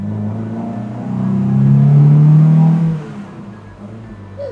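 A Mercedes 190SLR race car engine, roughly 100 horsepower, pulls away with a low throaty rumble that swells as it revs up, then eases off, loud and close.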